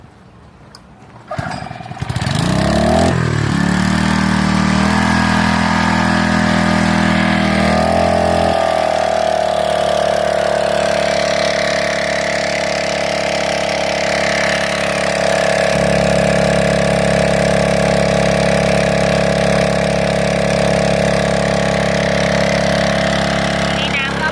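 An old Japanese Mitsubishi G222P water pump on a wheeled base starts up after a brief catch and then runs with a loud, steady mechanical hum and whine, close and continuous, shifting pitch slightly as it settles.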